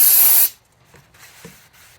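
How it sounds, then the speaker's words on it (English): Brake cleaner sprays in one loud, steady hissing burst from an aerosol can onto the wheel parts of a 1967 Triumph T100C motorcycle, cutting off after about half a second into quiet handling noises. "I'm going to clean it out a little bit with some more brake cleaner"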